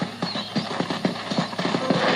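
A horse is ridden in the video game Red Dead Redemption. Hooves clip-clop in a steady, quick rhythm at close range, with a faint mechanical rattle of tack underneath and no talking.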